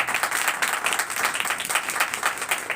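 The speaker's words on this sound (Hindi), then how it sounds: "तो उस मसीह के लिए जोरदार ताली बजाइए।" A church congregation breaks into loud, sustained applause after a sermon, dense clapping from many hands filling the space throughout, with no voices over it.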